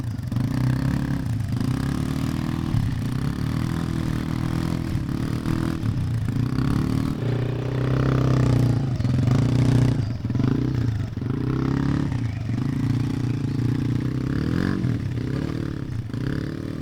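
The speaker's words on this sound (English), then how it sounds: "Rayson came up with a little ATV." A small ATV engine drives along, revving up and down under load, with scraping and clattering over rough ground. It stays close and fairly loud throughout.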